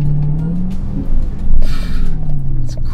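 A Dodge Charger Hellcat Redeye engine pulls hard under acceleration, a loud, close, rising drone that swells and surges through the short stretch with no talking.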